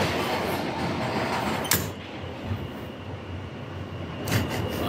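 A New York subway train rumbles steadily at close range with a broad, noisy roar, marked by a couple of brief sharp clatters.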